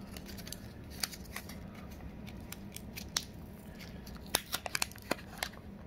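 A Warhammer 40k Indomitus package is opened by cutting into an envelope, producing a series of sharp snips and crinkly paper ticks, irregular and close, busier toward the end, with no speech.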